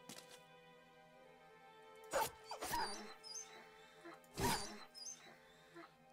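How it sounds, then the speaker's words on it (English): War dogs in the video game Battle Brothers give several sharp barks and yips in quick bursts over a steady tonal game music bed. "I just want to kill these dogs."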